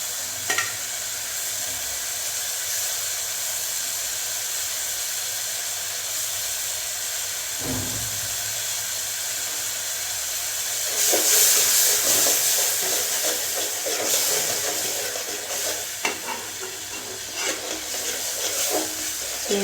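Shrimp frying in a pan with ginger-garlic paste, a constant hissing sizzle that swells louder partway through, with occasional spoon scrapes and clinks close by.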